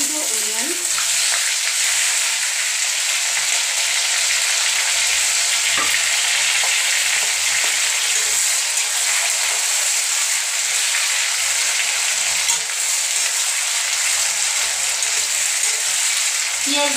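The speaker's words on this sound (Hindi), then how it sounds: "प्याज पूरा फ्राई होने दीजिए।" Sliced onions with bay leaves fry in a pan at home for chicken kosha, giving a loud, steady sizzle that runs continuously throughout, with occasional soft stirring scrapes.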